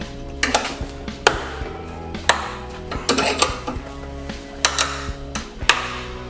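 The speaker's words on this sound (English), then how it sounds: "That is like the breaking of a socket or something is what it sounds like." Sharp metallic clunks and knocks from work on a Suzuki Samurai universal joint, irregular single hits spaced about a second apart, close and distinct over a low steady hum.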